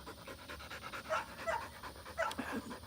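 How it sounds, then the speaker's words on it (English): A dog in Texas pants hard and fast in rapid, rhythmic breaths, close by, with faint whimpering squeaks mixed in over a low background hum. "When he's panting like this"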